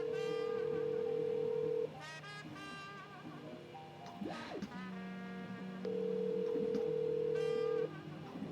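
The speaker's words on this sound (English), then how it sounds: "It's ringing." On a OnePlus 9 Pro smartphone call, a steady ringback tone sounds in two long beeps separated by a gap of fainter tones, clear and close with no talking.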